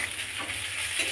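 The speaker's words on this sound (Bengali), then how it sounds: "সুজি ভাজা হচ্ছে" Semolina fries in a pan with a brief, soft, even hiss, heard close with no voices.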